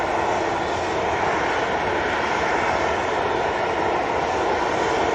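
An EasyJet airliner departing Manchester Airport for Basel on a heavy-thrust takeoff roars steadily and loudly, an unbroken broadband engine rush with no voices over it.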